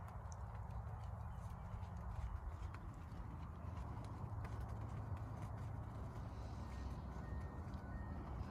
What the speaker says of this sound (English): Riders trot, trot your horses,